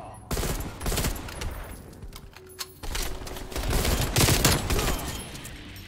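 Decoy grenade in Call of Duty Black Ops Cold War firing fake gunfire: dense, continuous bursts of rapid shots and crackling reports for several seconds, fairly loud, with game ambience and no speech.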